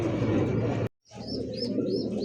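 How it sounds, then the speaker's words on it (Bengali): Steady low cooing of magpie pouter pigeons fills the scene, broken by a brief silence, with faint higher chirps from several birds close by. "দেখতে পাচ্ছেন বাচ্চা সহ ম্যাকপাই পটার কবুতর"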